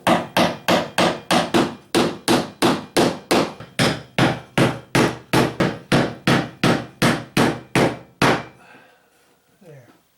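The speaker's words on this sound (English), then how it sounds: "I like to put a couple of gyprock nails right on the ends of those thin areas." Rapid, evenly spaced hammer blows driving nails into gyprock, about two dozen sharp strikes in a row, close and loud, then they stop and a quiet shuffle follows.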